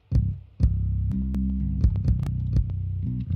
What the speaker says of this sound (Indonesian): Ini suara kick.